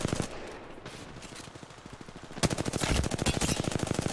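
Automatic gunfire in the Apex Legends video game, a sparser patch of shots at first, then from about 2.5 seconds a loud, dense rapid-fire burst of regular cracks that runs to the end with no talk.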